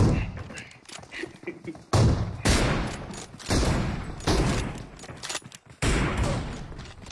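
Video game gunfire comes in several loud, dense bursts with gaps between them, and someone talks and laughs over the shooting.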